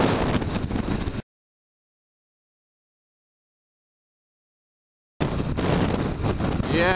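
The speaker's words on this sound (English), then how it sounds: "Yeah, it's windy out here." Strong wind buffets the microphone while riding on an extremely windy day, a loud roaring rush heard in two stretches separated by a long gap of silence.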